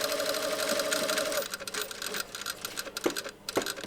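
A sewing machine stay-stitches around the long side of a shirt sleeve placket, its steady mechanical hum running close and continuous for the first stretch before breaking into shorter, uneven bursts with faint clicks.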